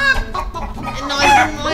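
Chickens clucking close by, a brief run of throaty clucks and squawks rising in pitch near the end.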